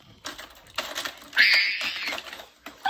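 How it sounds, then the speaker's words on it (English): Computer keyboard keys clatter in irregular bursts of quick taps, close and moderately loud, with a denser flurry of clicks in the middle and short pauses between runs. "Chica, can you please get off my keyboard?"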